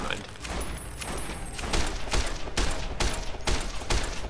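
Rapid bursts of gunfire aimed at a robot scorpion in Fallout New Vegas, loud repeated shots in an uneven rhythm with some echoing booms, while a voice talks over the shooting.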